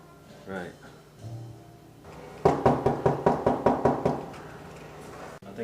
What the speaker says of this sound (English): I think somebody's knocking on.